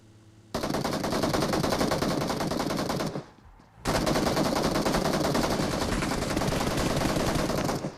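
Sustained automatic gunfire in the mobile battle royale game PUBG Mobile, loud and dense, rattling on for about two and a half seconds, breaking off briefly, then resuming for the rest of the stretch.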